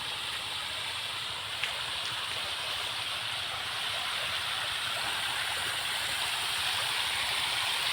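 Pond water pouring from a perforated pipe back into the pond as aeration, a continuous close rushing splash with a steady hiss, no talk.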